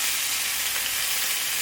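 A white onion fries in bacon grease, giving a loud, even hiss of sizzling fat that carries on without a break, nobody talking.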